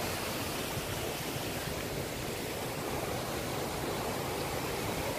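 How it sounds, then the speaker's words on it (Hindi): Water tumbles down at Wadi Al Darbat near Salalah, Oman, a steady broadband rush that holds evenly throughout, heard from some distance and fairly soft, with no voices over it. "वो ऊपर से देखें जहाँ से आ रहा है पानी नीचे,"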